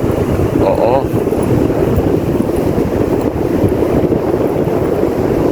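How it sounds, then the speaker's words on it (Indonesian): Strong wind blows loudly and steadily across the microphone outdoors by the water, a heavy constant rumble and roar that buries any other sound. "Aduh, anginnya cukup kencang di sini."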